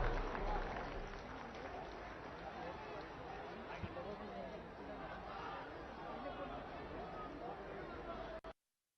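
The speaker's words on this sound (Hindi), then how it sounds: "आप सबकी जोरदार तालियों के बीच" Crowd applause and cheering for Prime Minister Modi at a large public event in Prayagraj, a continuous roar of clapping and chatter that holds steady before cutting off abruptly at the end.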